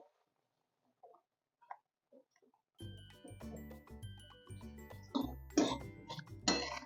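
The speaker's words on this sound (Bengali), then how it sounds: "এবার আমি এর মধ্যে সুজিটা দিয়ে দিচ্ছি অল্প অল্প দেবো আর নাড়বো" Semolina is added a little at a time and stirred in a pan over low heat for palm-fruit chomchom pitha: a quiet stretch with a few faint ticks, then steady scraping and stirring with sharp metallic clinks of a spoon against the pan.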